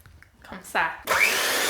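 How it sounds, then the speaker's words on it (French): An electric mixer starts up and beats sugar with two eggs for a French yoghurt cake. After a few quiet clicks and a short burst, it settles into a steady, loud whirring hum close by. "Premièrement, je bats le sucre et les 2 œufs."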